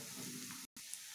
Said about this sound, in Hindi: अब हम 1 मिनट तक इसी तरह चलाते हुए हल्दी को पकाएंगे।